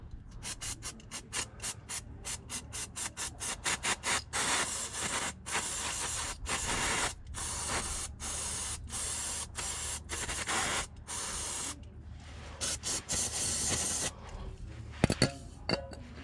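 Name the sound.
spraying brake cleaner under an Audi A3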